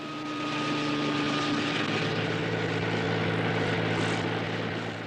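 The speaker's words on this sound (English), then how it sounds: "but by roaring helicopters" A helicopter roars loudly overhead, its engine drone and rotor throb steady and unbroken, swelling slightly then fading at the end.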